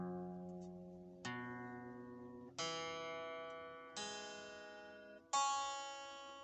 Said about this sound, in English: What you just heard now is the open string.